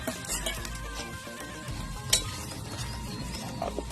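Food heating in a pan is stirred, a continuous crackling sizzle with scraping spoon strokes and one sharper metallic clink midway.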